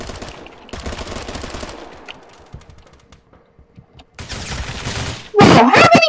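Gunfire in the Roblox game Phantom Forces, with bursts of shots in bunches, then a pause, then more shooting that ends in a loud, close blast. No one talks.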